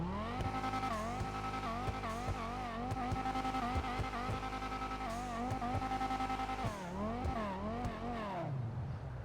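Banshee 900R sports car engine in GTA Online revving hard through repeated gear shifts, with rising and falling pitch sweeps and a brief tire squeal, loud and continuous before easing off at the end.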